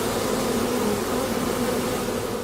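Bees buzzing steadily around apiculture hives set among coffee-growing land, a dense continuous drone that holds at an even loudness throughout, with no voices.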